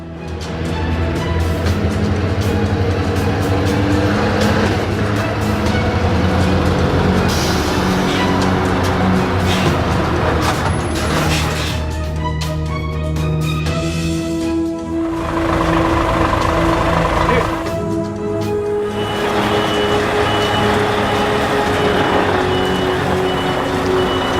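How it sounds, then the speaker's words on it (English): A Scania S580 truck pulls in with a loud, close diesel engine rumble and repeated reversing beeps, and its noise swells and eases over about twenty-four seconds. "And Nolan's truck there, the S580, just pulling in"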